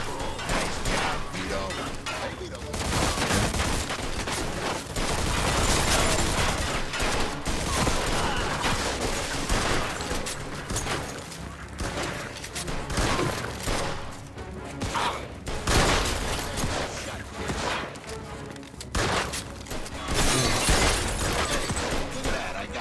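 Gunfire fills a Mafia II shootout, with loud, repeated bursts and single shots, some sharp cracks and clatter. It runs almost without pause, and voices are heard over it.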